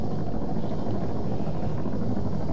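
Video game helicopter rotor, a steady loud broadband drone with low thumping throughout, no distinct voices.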